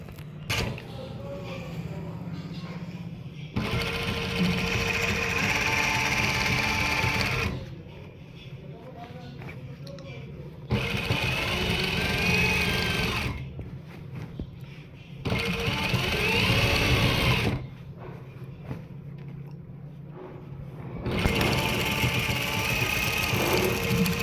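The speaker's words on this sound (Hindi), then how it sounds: "अब इधर मैं सिलाई कर रहा हूँ और इधर से यूँ रास्ता बना रहा हूँ।" Sewing machine stitching elastic onto a trouser waistband, three or four bursts of rapid mechanical chatter separated by quieter pauses, with someone talking in between.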